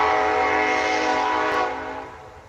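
Loud passing train sounding a sustained horn or whistle tone with a rumbling bed beneath, fading toward the end of the short burst, with no voices.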